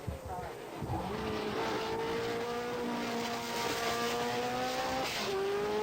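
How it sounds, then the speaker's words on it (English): Racing cars at speed on the Isle of Man TT course hill climb sprint, a steady high engine whine with rising and falling pitch as cars pass, heard at moderate distance over constant background noise. "some racing cars reaching speeds of more than 118 miles an hour"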